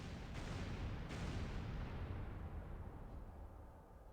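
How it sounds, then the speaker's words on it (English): A torpedo explosion in the submarine simulator game Dangerous Waters, a deep rumbling blast that swells and slowly fades over several seconds, heard alone without talk. "Con sonar. Loud explosion on the bearing of master 1."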